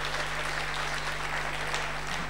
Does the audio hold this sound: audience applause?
yes